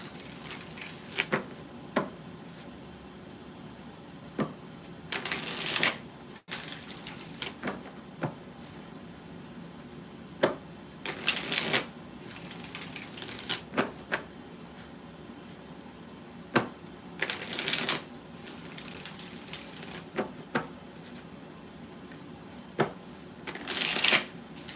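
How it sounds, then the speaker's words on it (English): Tarot cards are shuffled repeatedly in quick riffling bursts, close by, with short pauses and light handling taps between each shuffle. "We'll do 5 shuffles on this one."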